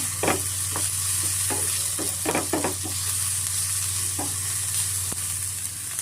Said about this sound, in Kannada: ಈರುಳ್ಳಿ ಮತ್ತು ಶುಂಠಿ ಬೆಳ್ಳುಳ್ಳಿ ಪೇಸ್ಟು ಸ್ವಲ್ಪ ಚೆನ್ನಾಗಿ ಫ್ರೈ ಆಗಿದೆ ನೋಡಿ